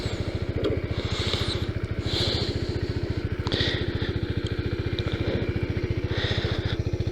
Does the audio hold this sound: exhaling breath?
no